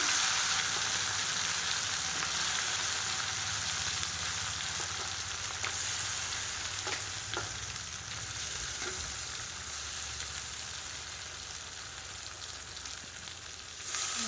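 Fish slides into hot oil in a pan and sizzles in a loud, steady, close hiss that lasts throughout, with a few faint clicks.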